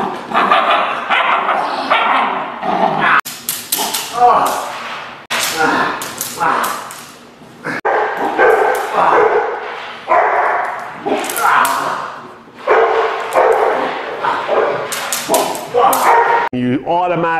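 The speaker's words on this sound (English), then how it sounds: "Here you see Malinois puppy Khaleesi" A nine-to-ten-week-old Malinois puppy barks, yips and growls in rapid bursts during bite work on a sleeve, loud and close, with a person talking over much of it.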